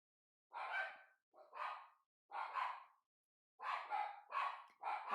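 Pet dogs bark in a home kitchen during cooking, apparently excited by someone arriving: six or seven loud, close bursts in quick, uneven groups with short silences between them, and no talking.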